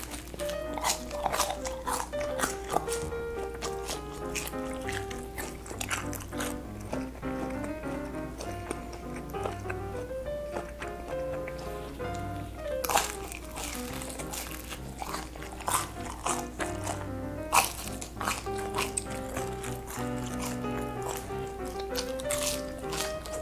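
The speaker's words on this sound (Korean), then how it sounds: "저 너무 오랜만에 튀김을 먹나요?" Crunchy deep-fried Chinese noodles dipped in sauce being bitten and chewed up close, with repeated sharp crunches over steady background music.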